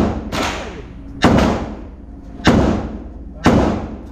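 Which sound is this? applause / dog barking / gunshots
gunshots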